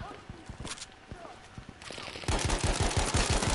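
Rapid automatic gunfire from a P08 Pistol Carbine in the Battlefield 5 multiplayer shooter, with sharp bursts growing louder and denser toward the end amid in-game noise and a voice talking.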